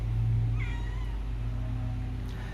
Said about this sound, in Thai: แมวของผมนะครับ